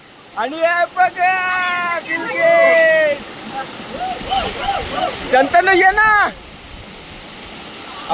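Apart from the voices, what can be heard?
waterfall flowing at a rainy-season picnic spot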